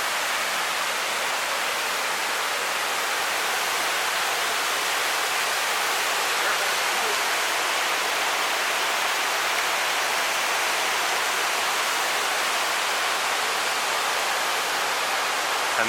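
Water pours out of a small rock crevice beside Siouxon Creek on a forest trail: a steady, close rushing wash that stays constant throughout, with no voices.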